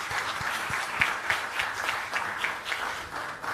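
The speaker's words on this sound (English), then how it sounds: "Can we have a resounding round of applause for our legacy partners, please?" Conference audience giving a round of applause, a dense, steady patter of many hands heard from a distance, continuous with no talk over it.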